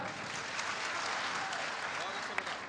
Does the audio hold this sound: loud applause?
yes